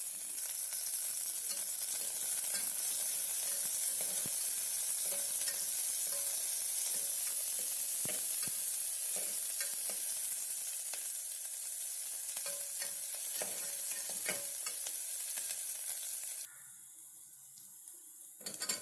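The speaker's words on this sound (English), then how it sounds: "Saute for 2 minutes" Chopped onion and ginger sautéing in a pan for carrot ginger soup, a constant close sizzle with intermittent stirring scrapes, the frying cutting off near the end.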